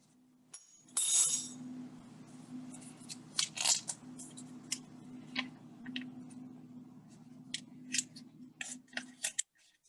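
Scissors snip through paper in a kitchen while following printed measurement guides, with a series of crisp, irregular cuts and rustling over a faint steady hum.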